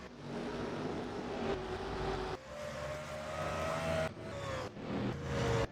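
Race cars run at Evergreen Speedway, several engines droning and whining together, with cars passing close and loud and the pitch shifting as they sweep by, continuous throughout.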